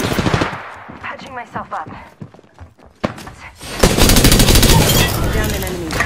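Rapid automatic gunfire in a video game shootout, bursts rattling close and loud over a player's voice, then building into a dense, sustained volley in the second half.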